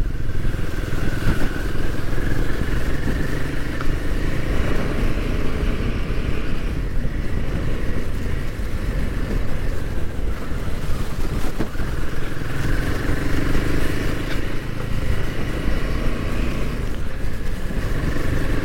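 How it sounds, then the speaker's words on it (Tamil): A Royal Enfield Himalayan 450 ridden in performance mode gives a continuous engine drone under heavy wind rush, its pitch rising and falling as the rider accelerates and eases off. "இப்போ நான் ஓட்டிகிட்டு இருக்கிறது வந்து பார்த்திங்கன்னா பர்ஃபார்மன்ஸ் மோடில் ஓட்டிகிட்ருக்கேன்"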